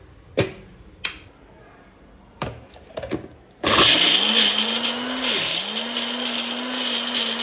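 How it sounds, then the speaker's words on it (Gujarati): A kitchen mixer grinder crushes cooled cooked gravy for a stuffed whole sponge gourd curry: a few sharp clicks and knocks as the jar is set, then a loud, steady motor whine that dips briefly and keeps running. "એટલે વરાળ નીકળી જાય પછી આપણે છે ને આને મિક્સરમાં ક્રશ કરી લઈશું."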